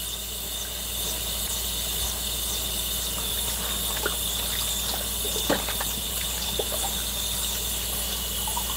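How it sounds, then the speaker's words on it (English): Water runs from a tap at a sink in a steady hiss, with a faint squeal and a low hum underneath and a few small clicks and knocks over the flow. "Turn the water on."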